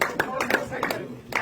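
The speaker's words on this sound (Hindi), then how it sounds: "जोरदार तालियों से" Clapping at a political gathering where a senior Congress leader joins the BJP: sharp, separate claps under a speaking voice.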